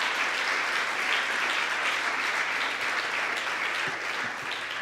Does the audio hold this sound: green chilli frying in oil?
no